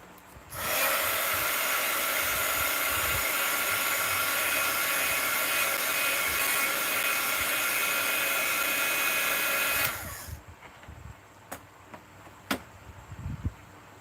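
A hair dryer roars loud and steady for about nine seconds, drying a mixed media art journal page worked with black ink and white paint, then cuts off, leaving a few faint knocks and rustles.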